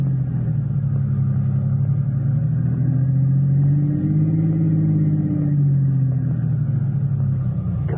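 Car engine in an old-time radio drama rumbles steadily as the vehicle swings around and pulls in to park, the low motor tone rising and easing through the turn, close and continuous with no talk.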